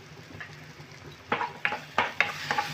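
Spice masala with a little water and a pinch of sugar stirring and sizzling in a pan for an egg-potato filling: a low simmering hiss broken by several sharp scraping stir strokes, close and moderately loud, with no talk.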